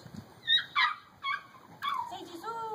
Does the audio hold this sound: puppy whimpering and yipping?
yes